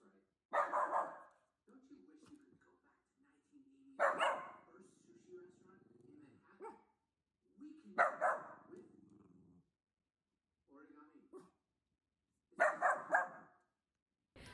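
A dog barks and growls at a recliner indoors, with loud, repeated bursts of barking separated by lower, rumbling growls over about fifteen seconds, near and alone.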